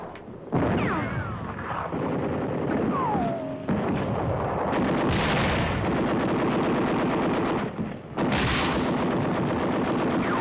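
Gunfire in a wrecked city during 1944 street fighting, with a sniper shooting from a cellar or attic: loud, dense bursts of rifle and machine-gun fire, broken by sharp cracks and a descending whistle, all close and with no talk.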